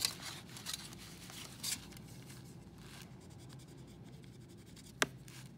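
Sharpie marker drawing on a metal surface being colored with alcohol, giving soft scratchy strokes in a few short bursts, close and quiet, with a sharp click near the end.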